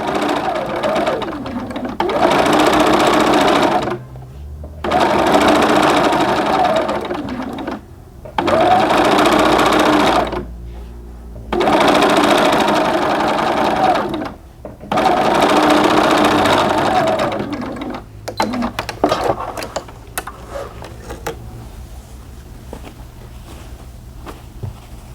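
A sewing machine top stitching along the seam line of doll pants, running in five steady bursts of rapid mechanical stitching separated by short pauses, close and loud, with light handling sounds at the end.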